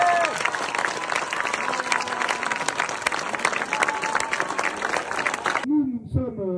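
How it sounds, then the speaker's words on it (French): A crowd at a rally against municipal subsidy cuts applauds in a dense, continuous burst, with voices and music mixed in, until the clapping stops abruptly near the end and a voice speaks. "on peut les applaudir bien fort"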